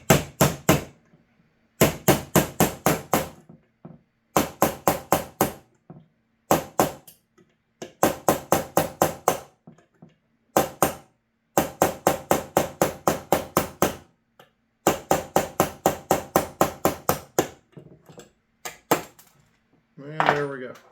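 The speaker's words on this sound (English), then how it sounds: "just get a regular hammer or whatever, just something that you can use to knock this roll pin out. Sometimes these are stubborn, and just keep tapping." Repeated bursts of metallic hammer taps knock a roll pin out of a 1977 piston assembly, in rapid close-up clusters of several strikes separated by short pauses, loud and sharp, with no talking.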